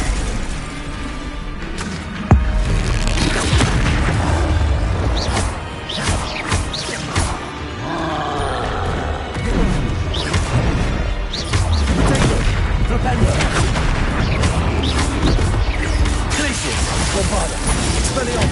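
Bombarda blasting spells exploding in the video game Hogwarts Legacy on PS5, with loud, dense, continuous crashes and booms layered over battle noise.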